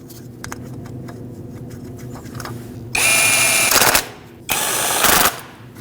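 Two separate whirring bursts of a power tool drive the two 10mm bolts that hold a bracket on the 3.5L V6 engine of a 2008-2012 Honda Accord, each about a second long, loud and close over faint workshop background.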